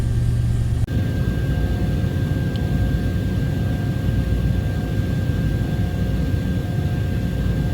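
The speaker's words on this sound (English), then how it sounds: "I've got the vehicle running, I got the scanner hooked up." A 2004 Toyota Tundra 4x4 with a four-wheel-drive fault idles in a steady, loud, low engine drone that continues unbroken after a brief click near the start.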